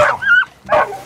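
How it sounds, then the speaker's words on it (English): Dogs in a video game bark and yip loudly in two sharp close bursts separated by a brief pause, with no speech over them. "He got dogs."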